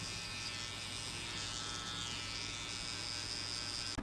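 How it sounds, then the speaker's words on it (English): An electric hair trimmer buzzes steadily and fairly softly during a mid skin fade buzz cut, a continuous insect-like hum with no talking, ending in a brief click. "Now using your trimmer and try to break this line."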